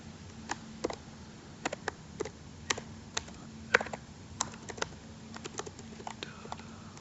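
Keyboard keys tapped in short irregular bursts while a name is typed for a Google Sheets file, crisp clicks over a faint steady hum.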